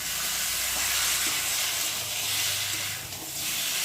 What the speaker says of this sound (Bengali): আর এখন মেখে রাখা চিকেনটাকে দিয়ে ভালো করে কষিয়ে নেব